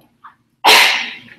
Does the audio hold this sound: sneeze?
yes